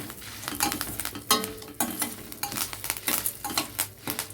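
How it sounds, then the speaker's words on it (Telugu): Dried red chillies, urad dal and curry leaves fry in a pan with crackling sizzle and repeated stirring scrapes of a spoon against the metal, busy and close throughout. "మిరపకాయలు, మినప్పప్పు అన్నీ వేగాలి, అప్పుడు బాగా టేస్ట్ ఉంటుంది"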